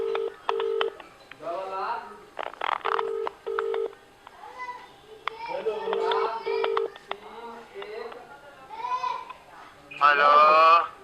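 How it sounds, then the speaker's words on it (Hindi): Touch-tone telephone keypad dialing beeps from a phone, sounding in several quick bursts of steady tones between stretches of close conversational speech. "ठीक हो तनी सारू के फोन कऽ दे छियै"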